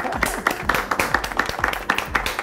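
Rhythmic hand clapping from a small group, steady and fairly loud, with a voice faintly underneath.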